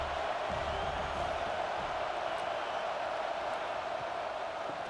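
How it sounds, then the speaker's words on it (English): A stadium crowd roars steadily through a third-down defensive stand in the College Football 26 game, UCLA Bruins against USC Trojans, a dense, sustained wash of cheering noise with no pauses. "Decibels rising as the crowd gets behind this defense on third down"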